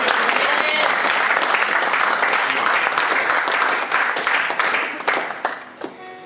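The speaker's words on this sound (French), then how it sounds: "Est-ce qu'on peut acclamer pour ça?" Loud, sustained applause from a church congregation at a Paris service, a dense wash of clapping that carries for several seconds and then thins out and fades toward the end.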